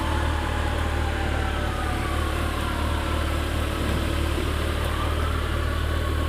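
A 2015 Kawasaki ZX14R motorcycle engine hums in a steady, loud, close drone that continues evenly throughout, with wind noise layered on top.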